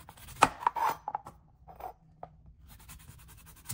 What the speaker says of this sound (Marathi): हा देठाकडचा भाग असतो ना हा थोडा कापून घ्यायचा.